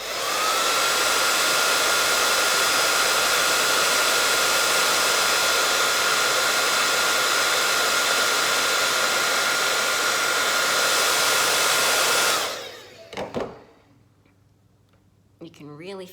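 A heat gun blows a steady, loud broadband whoosh for about twelve seconds while softening a FlexiWood ornamental moulding glued onto a sign, then cuts off, leaving a few faint handling clicks and soft sounds.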